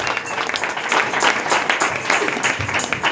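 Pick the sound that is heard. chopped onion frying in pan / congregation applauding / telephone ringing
congregation applauding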